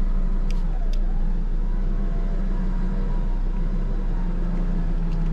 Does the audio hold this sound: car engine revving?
yes